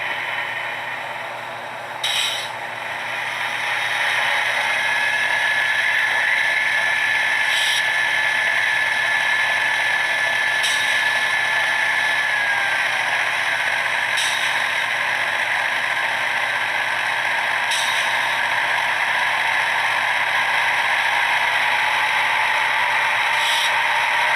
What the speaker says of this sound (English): So I'll bump the throttle just a little bit, turn drive hold on, so you can hear it cycle through.